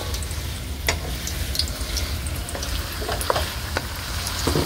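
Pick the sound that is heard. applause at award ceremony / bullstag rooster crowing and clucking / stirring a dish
stirring a dish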